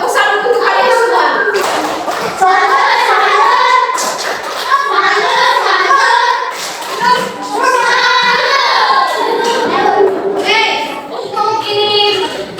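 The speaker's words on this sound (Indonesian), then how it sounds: "Oke, tepuk tangan untuk kalian semua." Elementary school pupils applaud in a classroom with scattered, uneven claps. Children's chatter and voices mix in throughout.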